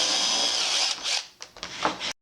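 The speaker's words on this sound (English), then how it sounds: "So I'm just going to drill a hole" A power drill whines at high speed, then slows and revs in short bursts as it bores a hole through material, close up, before cutting off.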